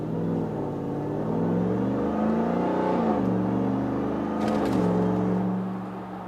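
A RAM TRX pickup with a muffler delete and SLP resonators revs its engine in a deep, loud, throaty exhaust drone. The pitch climbs and dips through a few swells before settling, heard close with no talking.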